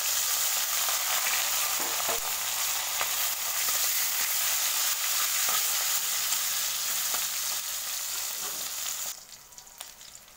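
Singi fish fry in hot oil, a loud, dense, continuous crackling sizzle close by that holds steady, then drops off sharply near the end, leaving faint clicks.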